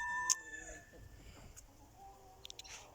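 A rooster crows once near the start, then hens cluck and murmur softly on a farm, with scattered faint clucks and small noises later, fairly quiet overall.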